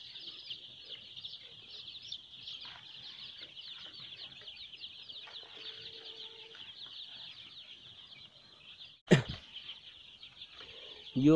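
A flock of chickens clucks and chirps continuously at moderate distance on a small farm, with a brief sharp knock and handling noise near the end.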